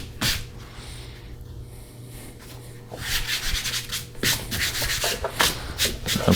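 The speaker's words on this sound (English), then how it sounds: "I'm going to fold this pasta back in on itself. This is called laminating the pasta." Pasta dough being folded and laminated on a floured surface, with soft rubbing and brushing sounds close by, quieter at first and then busier scuffs and pats, no talking.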